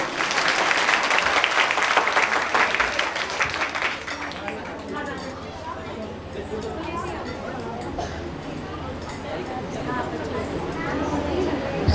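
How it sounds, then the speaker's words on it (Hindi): An audience claps at a children's programme during a guru's birth anniversary celebration, loud dense clapping for about four seconds that gives way to softer crowd chatter and voices. "हम केवल ताली बजा रहे हैं"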